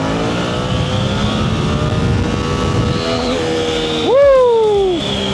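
Suzuki GSX-8R motorcycle engine in power mode B during a power wheelie: a steady engine drone, then a loud, sharp rev that climbs and holds briefly before dropping off near the end.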